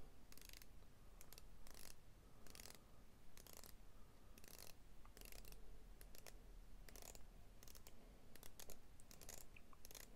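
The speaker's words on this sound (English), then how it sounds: "The bezel type on this is 120 click unidirectional bezel," Ceramic 120-click unidirectional bezel on a Steeldive SD1971 watch being turned, giving a long run of fine, evenly spaced ratcheting clicks, close and quiet, in quick bursts with brief pauses.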